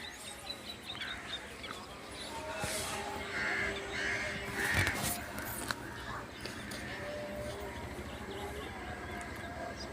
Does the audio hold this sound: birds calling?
yes